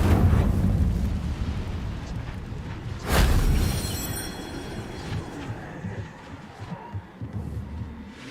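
Incendio fire spell cast in Hogwarts Legacy, a sudden loud whooshing burst that flares up and then trails off over a steady, rumbling game background.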